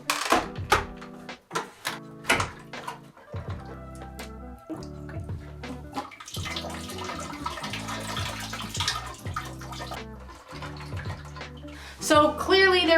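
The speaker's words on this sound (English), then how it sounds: "So clearly there was a fair amount of liquid inside of the actual motor of the filter." Water splashes and drips out of an opened turtle tank canister filter in uneven bursts and trickles, close and fairly loud, with a longer pour in the middle.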